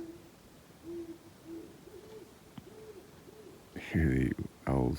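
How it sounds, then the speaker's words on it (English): Owls hoot back and forth at dawn in cold autumn woods, soft repeated calls from some distance, followed near the end by louder close rustling and knocking as a fire is being built. "owls hooting going back and forth"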